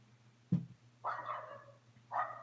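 Three sharp dog barks, one low and two higher-pitched, sound at a moderate distance with short pauses between them over a faint hum.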